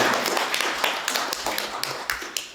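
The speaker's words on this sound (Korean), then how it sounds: "우리 큰 박수 한번 쳐주시기" Audience applause at an awards ceremony and talk show, a dense spread of claps with sharper individual hits, steady and fairly close for the whole stretch.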